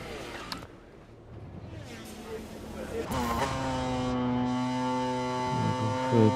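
The 1999 Repsol Honda 500cc two-stroke motorcycle in the MotoGP 21 video game revs up, its engine whine climbing steadily in pitch over a low hum. A person talks over the engine.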